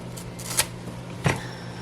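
Pruning shears snip through a Gloriosum plant stem at a node, two short crisp cuts about half a second apart, close and fairly quiet over a steady low hum.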